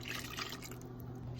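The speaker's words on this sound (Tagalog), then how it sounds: "Lagyan natin ang melted butter" Melted butter poured into mashed bananas for a banana cake gives a soft, continuous wet trickle, faint and close, with no talking.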